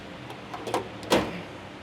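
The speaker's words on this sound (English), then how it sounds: "The beauty about these drawer systems are the flexibility to easily pull out and pack down." A drawer system in a Toyota Hilux utility build slides out with a few soft rattles and a firmer clunk near the end, close and moderately loud with no talk.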